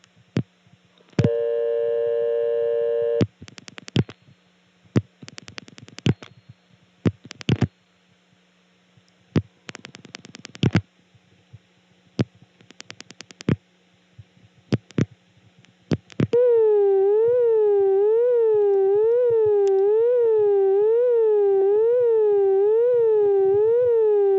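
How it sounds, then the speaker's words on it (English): Unusual intercept tone on a 1976 step-by-step telephone exchange in Birdsboro, Pennsylvania, played on dialing a non-working number: after bursts of clicks and brief tones, a steady warbling tone rises and falls in a fast, regular cycle, loud and sustained with no talk. "if you dial a non-working number, you get a rather unusual intercept tone"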